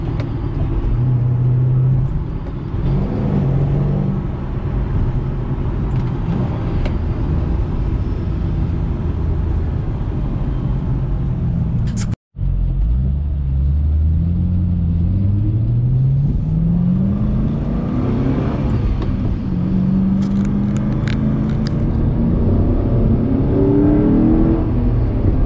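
A 2007 Shelby GT Mustang with a Hurst short-throw shifter revs hard through the gears, its engine note climbing and dropping across several shifts with a brief break midway, loud and continuous from inside the car.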